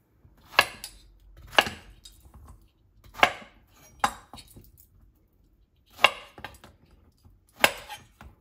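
A knife chops coarsely through courgettes on a board, six separate sharp, close knocks spaced about a second or more apart, with quiet pauses between them.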